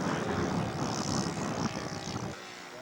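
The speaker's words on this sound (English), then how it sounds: "Air show takeoff for the Bucher Jungmeister" Scale model Bucher Jungmeister aircraft taking off at an air show, its propeller engine roaring loud and steady close by before the sound suddenly drops away.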